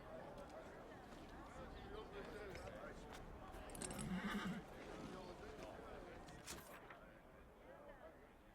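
Horse from the video game Dragon Age: Inquisition, with soft hoof clip-clops, tack jangling and a brief whinny in the middle, heard quietly under a player's talking.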